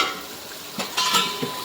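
Onions frying with a spoonful of sugar for chicken biryani give a soft crackling sizzle with a few quick stirring scrapes in a pan.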